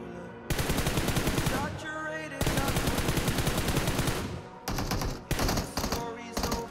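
Automatic gunfire in the PUBG mobile game, loud rapid bursts of machine-gun shots in long strings separated by short pauses, close and dominant with little else heard.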